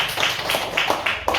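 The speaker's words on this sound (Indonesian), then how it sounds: "Kita tepuk tangan." Short burst of audience clapping at a school talk on positive culture, a few distinct, fairly close claps in quick rhythm.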